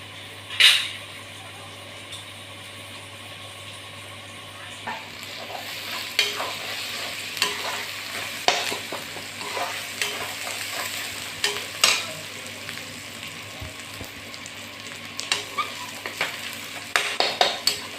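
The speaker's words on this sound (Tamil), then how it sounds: "தக்காளி நல்லா வதங்கணும் ஃப்ரெண்ட்ஸ்." Tomatoes and onions are sautéed in a pan with a low steady sizzle, broken by repeated scraping and clinking strokes of a spoon that grow busier and louder as the stirring goes on.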